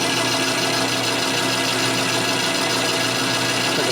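A boring bar cutting a big-bore Harley Shovelhead cylinder, producing a continuous dense grinding whir with a steady machine drone, close and loud throughout with no voices.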